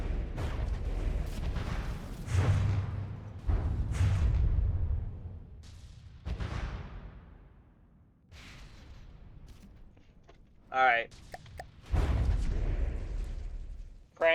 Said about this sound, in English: Crank cannons has destroyed us.